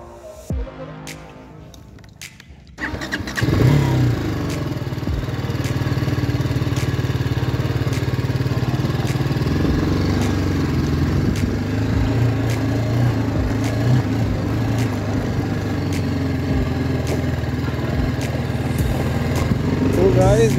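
BMW G310R motorcycle engine pulling away on a ride, a steady loud mid-range drone that starts after a brief quieter moment and holds throughout, with possible faint talk mixed in.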